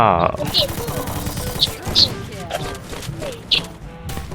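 Rapid gunshots in the Free Fire mobile shooter game, sharp cracks in short bursts and single shots, mixed with excited voices talking over the action.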